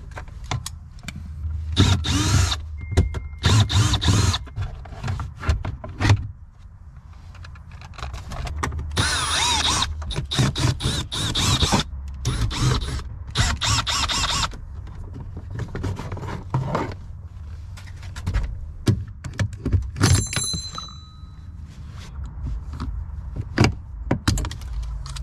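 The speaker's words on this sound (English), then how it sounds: "So I'm gonna pull the shifter box off." Hand tools working on a car's shifter box during a K-series short shifter install, with close metallic clicks, ratcheting, and clanks of parts coming loose in irregular bursts throughout, no talking.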